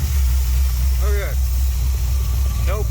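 A vintage street machine car engine runs at a steady idle, loud and close, with a deep continuous rumble and faint tonal chirps above it.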